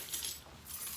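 A homeowner's house keys jangling by a locked French door, a brief, soft metallic clinking heard close up and fairly quiet.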